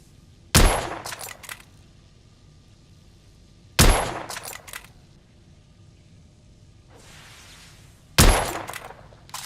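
Three sharp, loud gunshots fire from a rifle in The Order: 1886, set in Victorian London, each spaced a few seconds apart with a short ringing tail, over a quiet background and no talking.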